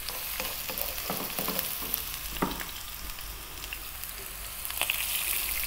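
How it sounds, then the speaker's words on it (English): Onion and garlic frying in a few tablespoons of oil over above-medium heat, a steady broadband sizzle with scattered crackles and a few brief stirring knocks, no one talking. "So I've probably got 2 or 3 tablespoons of oil there now. In goes 1 cup of the onion"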